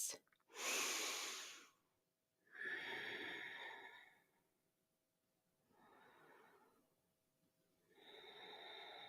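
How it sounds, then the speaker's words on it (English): Slow, deep breaths during a yoga session, with four long airy inhales and exhales separated by short pauses, close and soft, with no speech. "Take 3 more breaths."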